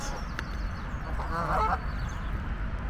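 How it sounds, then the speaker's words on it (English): Geese at a small lake honk loudly in a short cluster of nasal calls near the microphone, with softer duck-like calls and outdoor ambience around them. "The geese seem very vocal about it."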